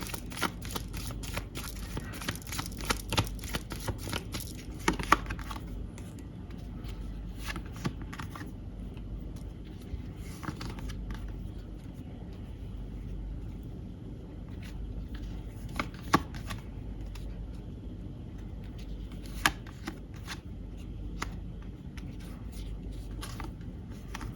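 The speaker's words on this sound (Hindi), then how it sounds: "कुछ कार्ड्स और निकालती हूँ फिर बताती हूँ" Tarot cards shuffled and drawn from the deck in a long, close run of soft riffling and slapping card sounds, denser at first and then sparser, over a steady low background hum, with nobody speaking.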